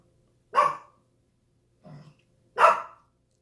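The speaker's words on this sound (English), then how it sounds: "Hence the barking, non-stop barking." A dog barks twice, sharp and close, with a softer low huff between the two barks and silence around them.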